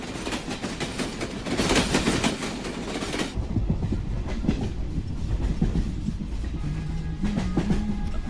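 A train rolls past a trackside spot in a Kannada film scene, a steady loud rumble with rattling wagons and a brief squeal toward the end, without speech.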